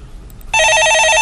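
A telephone in a stock market call-in broadcast studio rings loudly with a steady electronic warble that begins abruptly after a quiet moment.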